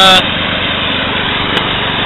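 A riding lawn mower runs in a field being cleared for a food plot, giving a steady, close engine drone that holds an even level throughout.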